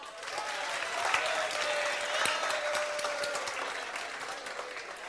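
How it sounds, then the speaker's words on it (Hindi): Students in a classroom clap together in a dense, steady burst of applause lasting several seconds at moderate loudness, with a faint voice briefly audible beneath it. "कितनी अच्छी बात है, ताली बजाओ।"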